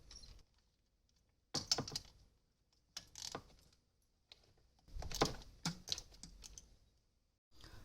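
Two 8mm bolts come off a truck during an evap leak repair, heard as quiet bursts of metallic clicking, rattling and clinking from tools and loose hardware, separated by short silent gaps.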